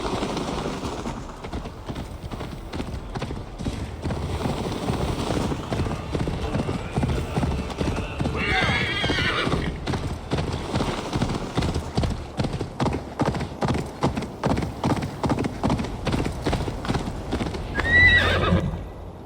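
In the Assassin's Creed Valhalla video game, a horse gallops with steady hoofbeats under ongoing in-game dialogue, then neighs sharply near the end.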